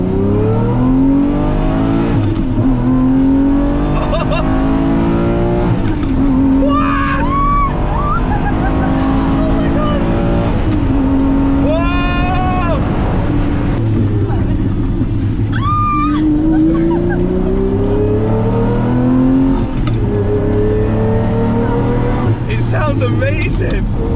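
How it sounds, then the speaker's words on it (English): A Lamborghini Murcielago with a freshly rebuilt engine laps a race track. The engine roars loud and close, climbing through the gears with a rising pitch and dropping at each shift, and people talk over it. "about to attempt a lap in the Lamborghini Murcielago we've just rebuilt the engine on and had it freshly painted"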